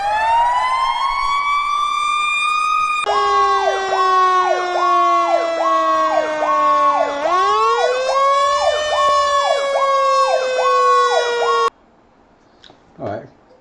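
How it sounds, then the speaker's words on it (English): A synthetic video game fire truck siren wails in a long rising tone, then switches to rapid repeating yelps and back to a wail before stopping abruptly, followed by faint clicks. "we have successfully imported our sirens"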